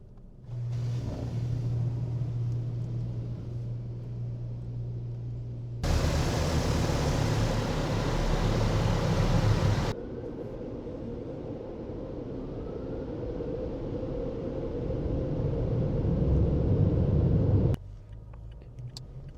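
An automatic car wash runs over a car at a fuel station in Edmonton, Canada, with a steady low machine rumble and a loud broadband burst of spraying water partway through, then a long continuous wash noise.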